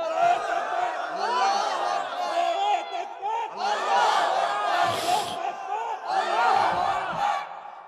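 A large crowd at an outdoor Bangla religious sermon shouts takbir in loud repeated waves of massed chanting, three swelling bursts over about eight seconds.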